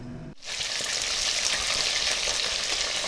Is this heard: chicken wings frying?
yes